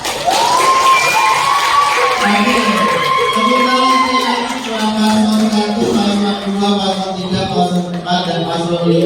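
A school audience at a junior high student council oration bursts into loud, sustained applause and cheering, with shouts and whoops close by over continuous clapping for the whole stretch.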